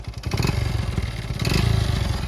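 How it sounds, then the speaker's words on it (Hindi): A motorcycle engine runs close by, its uneven putter mixed with a fast, clattering tick from the engine that swells briefly midway. "तो भाई ये बाइक ऑन हो चुकी है।"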